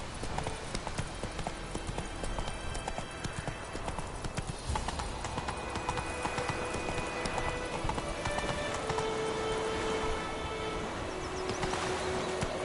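Hooves of the horse Roach clip-clop in a steady galloping rhythm through The Witcher 3, loud and continuous, with occasional game birdsong and faint ambient tones beneath.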